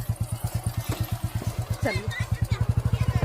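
A motorcycle engine thumps in a steady, fast rhythm while riding to the market, close and continuous, with a person talking briefly over it.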